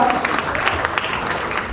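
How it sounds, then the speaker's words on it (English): An audience at a Bollywood stage event with Ranbir Kapoor and Anushka Sharma applauds children welcomed on stage, giving loud, continuous crowd clapping with scattered sharper claps and faint voices mixed in. "let's give them a big round of applause"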